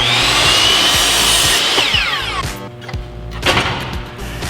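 A power saw cutting wood for a bluebird birdhouse wall, with a loud, steady whine under load that drops in pitch, winds down, then leaves a brief rattle and a few bumps, close and alone.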